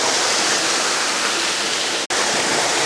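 Water pours steadily down a waterfall inside a botanical conservatory, a loud, close, unbroken rushing splash that cuts out for only an instant.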